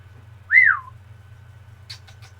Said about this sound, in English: She's whistling back to me now.